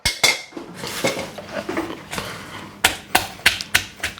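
A pestle pounds chilies in a stone mortar with sharp, close knocks, first uneven and spaced out, then a quicker run of about five hard strikes.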